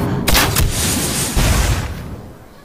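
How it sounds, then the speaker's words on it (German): A Hearthstone game effect sounds: a sharp cannon-like shot with a booming impact, followed by a second blast and a fading rumble, loud and alone. "Ein Schuss, ein Treffer."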